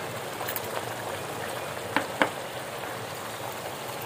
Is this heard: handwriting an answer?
no